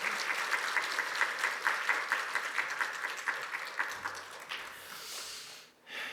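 A church congregation applauds to welcome a pastor, dense steady clapping filling the room for about five seconds before thinning out and stopping.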